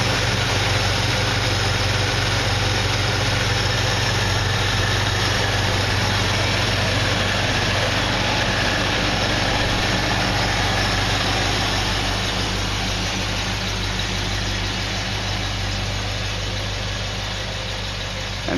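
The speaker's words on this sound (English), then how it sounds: "start the car for you so you can just listen to the engine" A 1965 London taxicab engine idles steadily and close by, a constant low rumble with a faint whine above it, holding unchanged the whole time with no voices.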